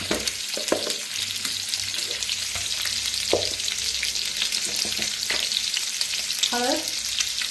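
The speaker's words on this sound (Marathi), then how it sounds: "आता फ्राय करून घ्यायचे अंडी, गॅस कमी करा।" Eggs fry in a pan over lowered gas for a masala egg dish, giving a steady, close sizzle with crackling bursts and occasional scrapes of stirring throughout.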